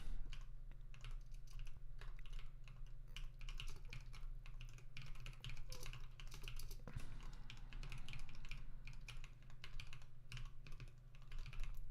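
Typing on a computer keyboard in a cold room, with quick irregular clicks and taps running almost continuously for the whole stretch, close and moderately quiet, and no voices.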